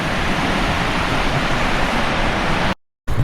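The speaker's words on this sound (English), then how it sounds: "And I'm pretty sure you'll be able to hear that waterfall too." Waterfall and river running through scenery near Dangars Gorge, a steady broadband rush of falling water that fills the clip, loud and unbroken, with a brief dropout near the end.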